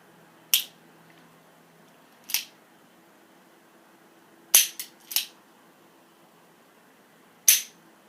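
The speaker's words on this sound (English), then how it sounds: "This is called single action shooting." Single-action revolver shots, five sharp cracks spaced irregularly, with two fired close together near the middle, loud and distinct against a quiet background.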